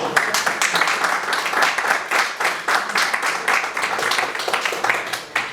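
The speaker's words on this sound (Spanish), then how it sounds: "Un aplauso" An audience at a 2019 academic design research colloquium applauds a welcomed speaker, with a dense, even stretch of many hands clapping close and steady throughout.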